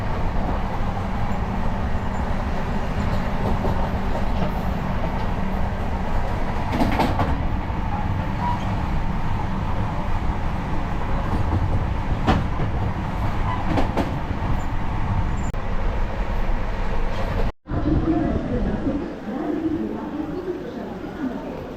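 Passenger train coaches swaying at the joint between two cars while running, a loud continuous rumble with rattling clatter and sharp knocks, briefly dropping away near the end before resuming.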